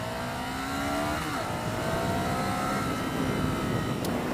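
Ducati Scrambler Sixty2 400cc motorcycle accelerating, its engine note rising steadily through a gear change, heard up close over constant wind rush, no voices.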